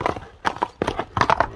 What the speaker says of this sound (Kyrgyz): Көрүңүздөр, учар ат экен жаныбар.